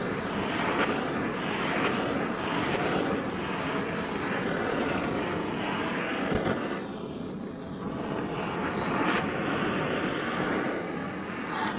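A gas torch heats the aluminium casing of a Lambretta scooter engine with a steady, close, roaring hiss that holds at an even loudness throughout.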